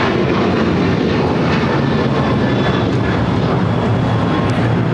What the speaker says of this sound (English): this is the delayed Asiana coming in from Seoul